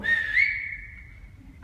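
A single whistle, rising quickly and then holding a steady, clear tone for over a second, given by a sleigh driver to call his team; it is near and alone, with no speech.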